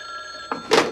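A telephone rings indoors with a steady electronic tone, then a couple of soft thunks follow as the ring cuts off.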